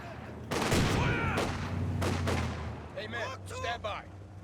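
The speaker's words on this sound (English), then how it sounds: "Another grenade launched." Grenade launcher fire in Company of Heroes 2, heard as a few sharp, loud blasts with battlefield noise that carries on under a commentator's voice.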